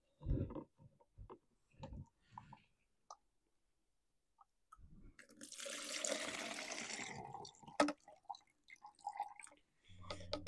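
Fuel from a Stihl MS 271 Farm Boss chainsaw tank pours out in a steady splashing gush after a few scattered knocks and clicks. The sound is close and moderately loud, with a sharp clunk near the end.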